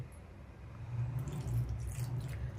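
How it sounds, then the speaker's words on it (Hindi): Water, about one glass, poured into a bowl for making bael fruit sharbat, a low gurgling stream that swells and continues steadily, fairly quiet and without any talking. "अब इसको क्या करते हैं, इसमें डालते हैं पानी।"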